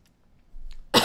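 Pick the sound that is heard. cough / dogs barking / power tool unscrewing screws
cough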